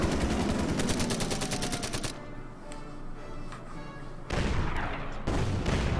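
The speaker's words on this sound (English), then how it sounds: "And one fighter attacks my Arado." Rapid machine-gun and cannon fire from a fighter plane attacking an Arado in the strategy game Order of Battle, Kursk, a dense loud burst of shots followed by a quieter rumbling pause and another heavy volley.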